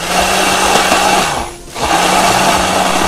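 A hand blender whirs steadily while blending homemade mayonnaise, a loud continuous motor buzz that briefly drops and dips in pitch midway before resuming at full speed.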